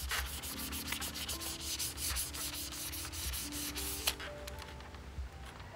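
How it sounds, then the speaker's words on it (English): A lint-free wipe rubs tacky gel top coat off fingernails, making a soft, continuous scuffing and swishing, close but quiet, with a small tap near the end and no talking. "So I took a lint-free wipe and I'm going to remove the tacky layer."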